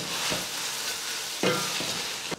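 Chicken liver masala with onion and green chilies frying in a pan, a steady close sizzle with a few louder stirring scrapes, no voices.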